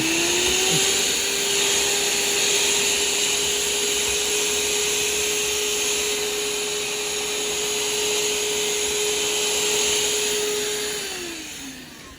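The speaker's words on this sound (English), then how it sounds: "I want to come in with a shop vac or vacuum." A shop vacuum runs steadily with a loud, continuous whine and airy roar, then spins down at the end.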